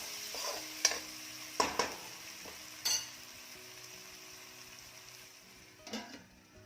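Masala with chopped tomato sizzles quietly in a pan for a Malvani-style egg curry, with a soft continuous fry and a few sharp stirring clinks from a utensil.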